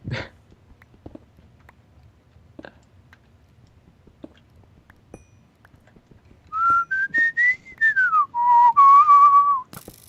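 A clear whistled melody rises and then falls, loud and close, after several seconds of faint clicks and quiet background noise.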